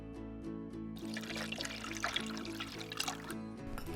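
Tap water pours steadily into a microwave Kraft mac and cheese cup up to its fill line, a close, continuous splashing trickle over a faint steady hum, with no voice.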